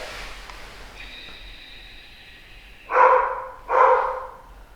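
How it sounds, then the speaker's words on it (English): A pet dog indoors during origami folding gives two loud, close barks in quick succession, following a quieter whining tone; no talking is heard. "Sorry about my dog."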